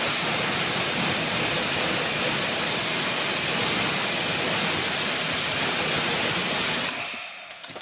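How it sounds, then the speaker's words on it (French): Water spray rinsing a car wheel after a cleaning product, a steady loud hiss of running water that continues for about seven seconds, then cuts off near the end. "Ensuite, on rince, tout simplement."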